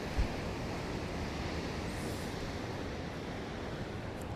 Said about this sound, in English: It's a bit breezy today.